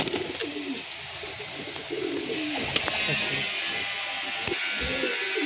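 A pair of adult red pigeons cooing close by, a series of low throaty coos repeating over steady background noise, with occasional soft rustling.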